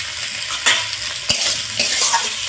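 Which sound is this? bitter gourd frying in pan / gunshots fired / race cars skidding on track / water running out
bitter gourd frying in pan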